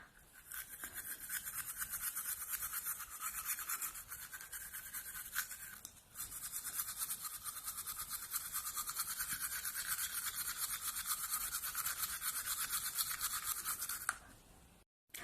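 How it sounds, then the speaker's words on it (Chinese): A toothbrush scrubs the chewing surfaces of teeth in a close, continuous bristly rasp that runs nearly unbroken for about fifteen seconds, with one brief dip partway and a sudden stop at the end. "然后现在我们刷咬合面"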